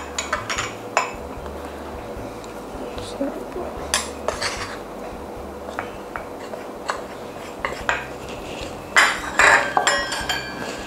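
A spoon clinks and scrapes against a mug while salt and cake flour are stirred into a mocha mug cake batter, giving sharp irregular taps and clatters close by, with a few louder knocks near the end.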